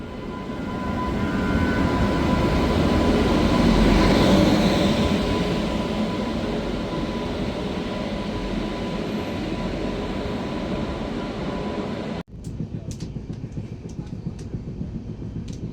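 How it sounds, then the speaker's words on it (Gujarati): A train rolls into a station on a foggy winter morning, its rumble swelling loudly, then easing as it slows, cutting off sharply near the end, followed by a few clanks. "ટ્રેન આવી"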